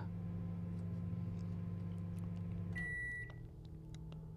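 Meat pizza cooking in an oven in the FNAF game Killer Night, a steady low appliance hum that ends in a short electronic beep, with no voices.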